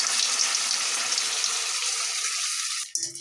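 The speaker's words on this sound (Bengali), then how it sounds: "একটা একটা করে ভেজে নেবে।" Egg and potato chops deep frying in hot oil, a loud steady crackling sizzle that runs unbroken, then cuts off abruptly near the end to a quieter clatter.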